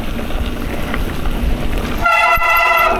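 Train horn sounding a loud sustained blast that cuts in suddenly over heavy wind and riding noise while mountain biking in fog near Malibu.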